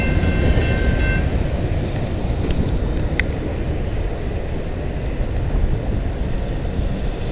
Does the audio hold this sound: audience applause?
no